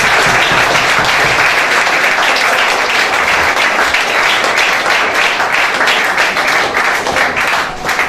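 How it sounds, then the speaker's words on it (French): A church congregation breaks into sustained loud applause, dense overlapping clapping from many hands that carries on steadily for several seconds without a pause. "Il faut applaudir à Dieu."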